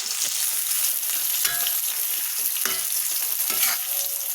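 Anchovies (ikan bilis) fry and sizzle in a hot pan while being stirred, a continuous loud hiss broken by a few scraping stirs, with no talking.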